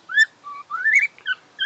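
A shy pet parrot whistles a series of short rising and falling tuneful notes, clear and fairly close, with brief pauses between phrases and no talking.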